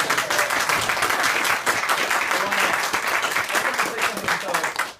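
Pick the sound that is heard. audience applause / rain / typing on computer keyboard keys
audience applause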